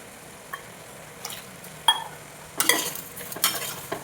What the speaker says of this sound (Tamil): கிளறிட்டு கொஞ்ச நேரம் வேகணும்.